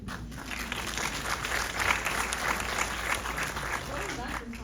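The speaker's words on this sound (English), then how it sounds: "she just got like such a nice applause in this room" An audience in a screening room claps, a dense, steady wash of applause that holds across the whole stretch, with voices faintly mixed in.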